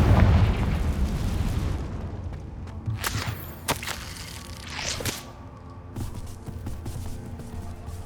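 Confringo blasting spell in Hogwarts Legacy: a heavy low boom at the start decays into rumble, followed by several sharp cracking bursts and whooshes of magic combat.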